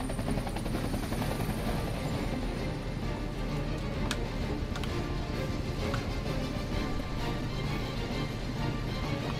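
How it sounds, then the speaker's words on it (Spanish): Helicopter rotor noise from the video game Final Fantasy VII Remake, a steady loud broadband thrum filling the whole stretch, with faint clicks and debris-like crackles on top and no talking. "Ha explotado ya 4 veces el helicóptero, o sea, el mismo helicóptero además."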